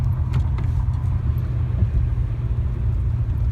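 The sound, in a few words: car engine running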